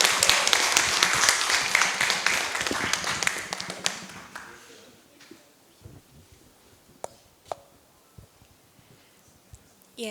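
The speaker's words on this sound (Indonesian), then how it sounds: "kita berikan tepuk tangan untuk anak-anak Papua" An audience claps loudly for children from Papua, a dense burst of applause that fades out after about four seconds, leaving a few scattered taps in a quiet room.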